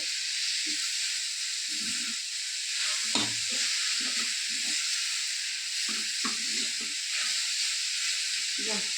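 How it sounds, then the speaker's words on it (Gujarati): Grated carrots sautéing in ghee for carrot halwa, a steady hiss of frying with intermittent scraping stir strokes against the pan, fairly close. "ત્યાં સુધી ઘીમાં સાતડવાનું ગાજરને"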